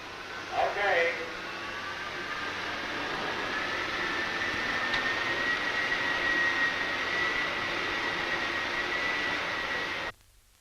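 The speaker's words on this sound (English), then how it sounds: "You may open 15 and 16 and put on compressors 1, 2, 3, and 4, please" Wind tunnel compressors running during a single-stage blowdown start; a steady broad roar with a high whine that builds and holds for about ten seconds before cutting off abruptly.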